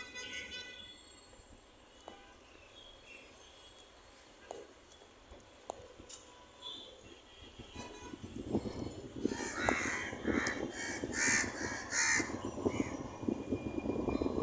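A crow in Dhaka after rain caws in repeated harsh calls that grow louder and more frequent in the second half, over the rumble of a passing metro train.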